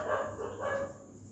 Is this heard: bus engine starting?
no